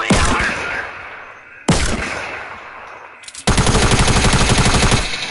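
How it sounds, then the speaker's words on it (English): Bursts of light machine gun fire in a PS4 shooter game, loud and close: a short burst, a second burst after a pause, then a long sustained stream of rapid shots. "I got a light machine gun"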